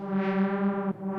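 Analog synth brass holds a sustained, buzzy chord drenched in big long reverb, bright and steady for about a second before a brief dip, close and alone without voices.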